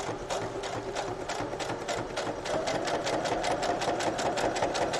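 A sewing machine stitches a pouch made from stamped tracing paper, its needle chattering in a fast, even rhythm at close range and fairly quiet, with no talking.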